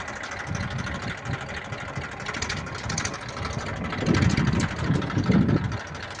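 A farm tractor engine reversing in a field before sowing, a mid-range mechanical chug running steadily at moderate distance and swelling louder toward the end.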